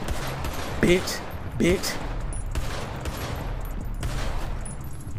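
Gunfire rings out in GTA roleplay: a few sharp shots burst amid a noisy street scene, with a voice briefly talking over the racket.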